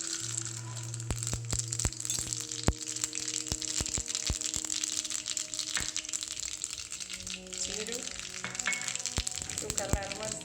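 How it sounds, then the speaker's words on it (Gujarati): Mustard seeds and whole spices popping and sizzling in hot oil for a Gujarati dal dhokli tempering, with sharp crackles scattered over a steady frying hiss and a few faint background sounds. "દાળ ઢોકળીનો વઘાર કરી લેશું।"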